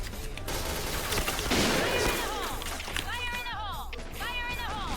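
Rapid automatic gunfire from a Gatling gun in the online shooter Point Blank, a dense sustained burst with crashing impacts amid game effects, while a player talks over it.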